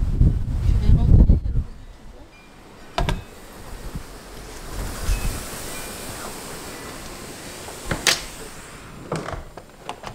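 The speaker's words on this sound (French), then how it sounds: "Là, c'est le vent. Vraiment, un temps venteux." Gusty wind blows outdoors in a town centre, a steady rushing roar buffeting the microphone, with a few sharp knocks and thumps breaking through.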